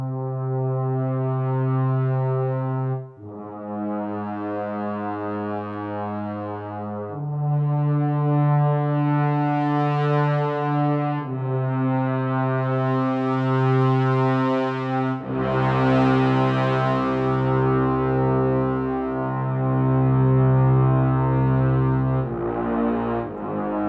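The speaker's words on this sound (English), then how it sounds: "I have the detail from the two bass trombones, and then the richness and fullness of the Abbey Road 1 library, that low brass patch there" Layered low brass, two bass trombones blended with a rich orchestral brass patch from the Abbey Road 1 library, plays sustained full chords that shift every few seconds, loud and continuous with no talk.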